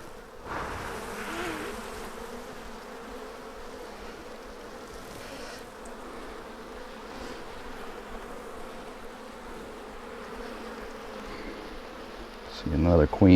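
Honey bees swarm around a hive set in a big oak tree, a steady close hum of many wings droning continuously, with a sharp rustle near the end.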